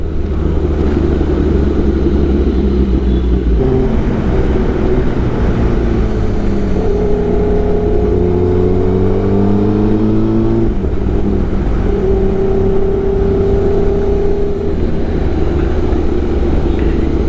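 A car drives along a road, its engine humming steadily and rising and falling in pitch as it shifts through gears, loud and close throughout with no voices.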